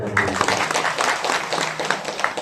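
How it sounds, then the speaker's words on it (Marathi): Audience clapping at a devotional gathering, a lively burst of many hands with some sharper individual claps standing out, mixed with a little background voice activity throughout. "टाळी वाजवाया"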